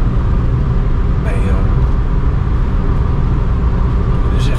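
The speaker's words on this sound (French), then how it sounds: "à part le différentiel ou les pneus, je sais pas, qui font du bruit" A barn-find Maserati Biturbo drives on the road with a loud, constant low rumble of tyre and differential noise, while someone talks over it.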